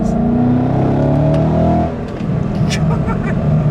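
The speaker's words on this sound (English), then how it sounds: "There's a little bit of backfire there." A supercharged 2015 Mustang GT engine revs hard, then drops off, followed by a few crackling exhaust backfire pops while people talk over it.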